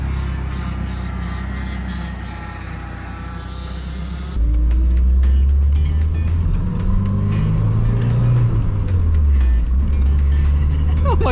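A Ford SVO Mustang starts off on the road with a low engine rumble that jumps louder partway through, then rises and falls as the car drives on.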